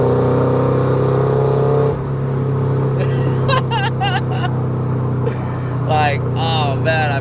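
Engine of a Pandem widebody Toyota GR86 drones steadily while driving, a constant close hum beneath someone talking, with a slight drop in level partway through.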